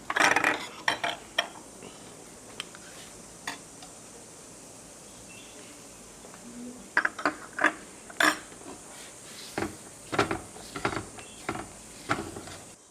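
Jackfruit vegetable being stirred and sautéed in a pan, with irregular metallic scrapes and clinks of a spatula against the pan, clustered in short bursts separated by quieter stretches, close and fairly faint.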